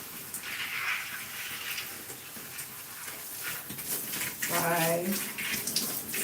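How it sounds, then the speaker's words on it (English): Water runs from a tap as hair and styling tools are rinsed during a wash-and-go routine, a steady close hiss and splash under a woman's brief speech. "all right, so now we're going to start to rinse."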